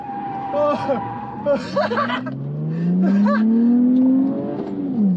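A Lexus IS200 with a welded differential revs up with a rising engine whine that climbs steadily toward the end, while excited voices talk and shout over it nearby.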